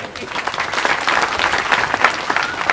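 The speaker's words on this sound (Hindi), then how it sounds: "बजाओ ताली।" Crowd of listeners clapping at a Hindi Bhagwat Katha religious discourse in a village gathering, a lively continuous burst of many hands with uneven peaks, fairly loud and close.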